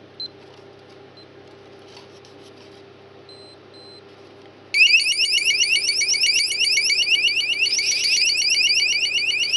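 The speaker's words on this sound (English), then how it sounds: "So here's the sounder" A mini keypad alarm sounder, opened up on a bench, suddenly starts a loud, rapid, warbling electronic beep that continues steadily for about five seconds after a quiet hum.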